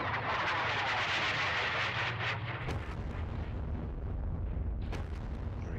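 Heavy battle noise from a war video game, with artillery-like booms and sustained rumbling fire opening on an advancing force, plus a couple of sharp cracks later, dense and continuous with no voices.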